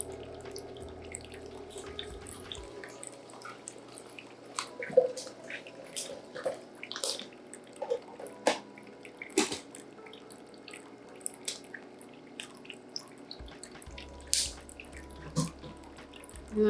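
Water poured into the tank of a Nespresso coffee machine, a soft trickle with scattered drips and splashes, fairly quiet and steady throughout with no one talking.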